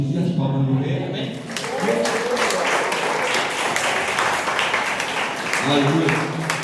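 Church congregation breaking into sustained applause during an evening service, dense clapping from many hands with voices rising over it near the start and again at the end.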